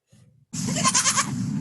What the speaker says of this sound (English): So these are some normal goat sounds